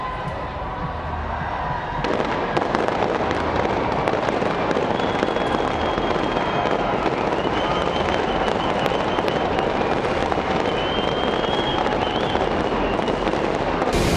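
Dense, continuous crackling and booming of New Year's midnight fireworks at Auckland's Sky Tower fills the whole stretch, with a large crowd roaring and cheering underneath, loud and close.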